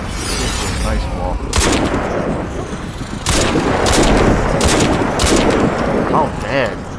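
In a Crysis 3 multiplayer sniper match, loud rapid gunfire crackles in repeated bursts, some close and some farther off, while a player talks over the shooting.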